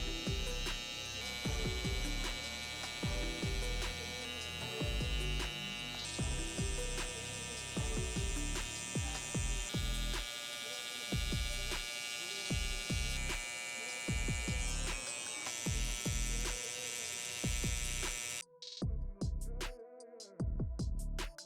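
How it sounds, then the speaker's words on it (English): Zero-gap hair trimmers buzz steadily and close up while lining up hair around and behind a man's ear during a haircut, the hum continuous with small shifts in pitch until it cuts out near the end. "start lining up around and behind the ear using my trimmers"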